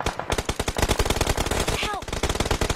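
Rapid automatic gunfire from a Thai competitive scrim match in a shooter video game, dense bursts of loud shots rattling continuously throughout, with a faint voice briefly under the shooting.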